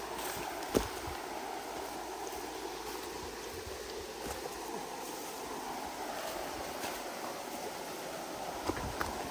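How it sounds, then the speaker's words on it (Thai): A strongly flowing forest creek rushes in a steady, even roar throughout, with a couple of faint knocks or splashes over the constant water noise. "น้ำไหลแรงมากอ่ะ ทุกคนน่าจะได้ยินเสียงกันนะครับ"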